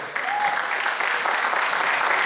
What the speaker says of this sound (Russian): Ваши аплодисменты давайте еще раз.